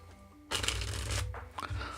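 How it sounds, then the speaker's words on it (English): Tarot cards are shuffled close up in a quick riffling burst, pausing briefly before the brushing and flicking resume; faint tones hum underneath. "I'm gonna start shuffling just in case you say yeah."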